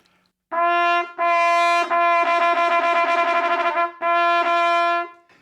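A four-valve flugelhorn sounds a G in several sustained tones with short breaks, the middle phrase slightly wavering, clear and close with no talking.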